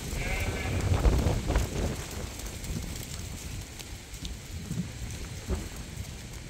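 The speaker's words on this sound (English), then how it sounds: "It's raining now." Steady rain falling on a sheep farm with sheep bleating, a constant hiss of rainfall under a few calls from the flock at moderate distance.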